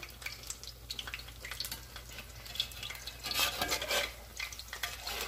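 Cod fritters in batter fry in a pan, giving a steady soft sizzle with crackling bursts that swell louder midway, heard close with no talking.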